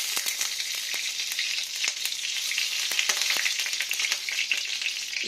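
Hot ghee sizzles and crackles steadily in a heated wok, with sharp sputtering pops from traces of water, close and continuous with no talking.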